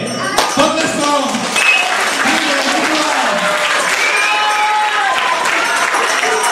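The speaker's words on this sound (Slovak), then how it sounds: "Tak to privítajme. Potleskom." A crowd applauds at a St. Nicholas Day celebration, with sustained dense clapping and a few overlapping voices and shouts from the audience, loud and continuous throughout.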